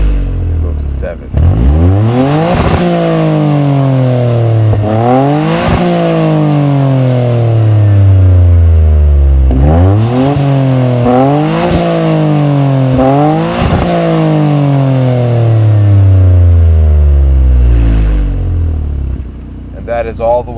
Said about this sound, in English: That is all the way to the rev limiter.